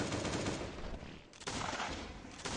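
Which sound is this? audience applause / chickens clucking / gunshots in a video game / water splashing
gunshots in a video game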